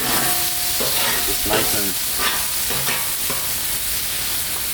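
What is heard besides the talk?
butter sizzling as it is added on a Blackstone griddle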